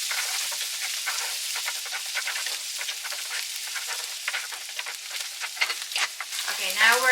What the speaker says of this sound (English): Let's just keep sauteing them together before we're gonna add our spinach.